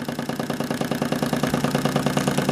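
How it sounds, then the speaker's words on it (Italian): A Wilesco D16 toy steam engine runs at medium speed, giving a fast, even mechanical chuffing and clatter that repeats steadily and sounds close. "il motore è partito regolarmente. In questo momento ha un regime medio"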